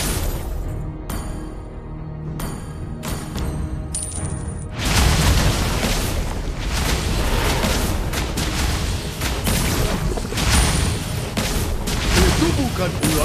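A turret destroyed in the mobile game Mobile Legends, in-game combat noise with a burst of booming impacts and clattering effects that builds into a dense, loud continuous roar, with commentary heard over it.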